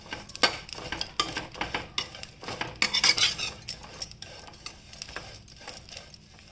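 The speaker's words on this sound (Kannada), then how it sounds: "ಈಗ ನೋಡಿ ಒಣಶುಂಠಿ ಹಾಕ್ತಾಯಿದ್ದೀನಿ ಹುರ್ಕೊಳ್ಳೋಕ್ಕೆ" Dry ginger and tamarind being stirred and roasted in a pan, with a spoon scraping and clattering against the metal in a quick, irregular series of close clinks and rattles.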